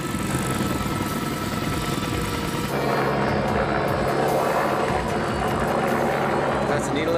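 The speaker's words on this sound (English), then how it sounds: "That chopper's up in the air looking for us." A search and rescue helicopter flies over remote Temagami wilderness, giving a steady, droning rotor and engine rumble that swells a little louder partway through, with people talking faintly underneath.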